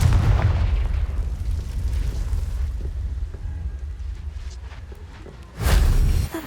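A Confringo spell explosion in Hogwarts Legacy gives a loud, deep rumbling blast that fades into a long low roar, then a second heavy boom hits near the end, with no talk over it.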